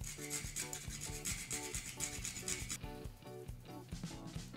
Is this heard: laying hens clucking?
no